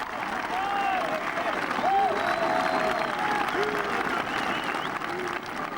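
Spectators at Royal St George's during the 2003 Open golf championship applaud a par putt on the 17th, sustained clapping with scattered whistles and calls, steady and fairly loud throughout.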